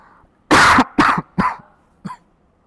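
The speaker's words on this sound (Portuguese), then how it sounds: "Vamos parar que eu vou tossir de novo." Someone coughs three times in quick succession, loud and close, then gives a softer fourth cough after a short pause.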